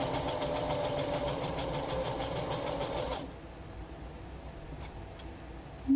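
Sewing machine running a wide zigzag stitch, a steady fast mechanical whir with rhythmic needle ticking that stops partway, leaving a quiet hum and faint clicks.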